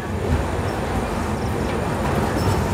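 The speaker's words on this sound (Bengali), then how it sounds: "ছেড়ে দিল NJP স্টেশন আমাদের ট্রেন পদাতিক এক্সপ্রেস" Padatik Express, train 12378, pulling out of New Jalpaiguri (NJP) station, with a steady, loud rolling rumble of wheels and carriages throughout, no voices heard.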